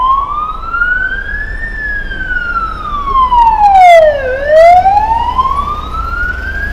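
On a Hong Kong street in the Lan Kwai Fong area, an emergency vehicle siren wails loud and close, its tone sweeping up and down in long slow cycles over low traffic rumble.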